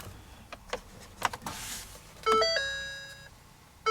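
A few soft clicks and rustles, then a sustained electronic key-on warning chime rings out from a 2017 Ford F350 truck, fading slowly before sounding again.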